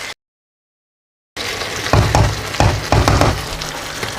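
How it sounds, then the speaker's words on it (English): Chicken pieces fry in a pot as they are stirred and turned, a close steady sizzle broken by several scraping, clunking stirring strokes, starting after a brief silent gap. "I'm just going to give it a mix around. Just make sure you turn the pieces over."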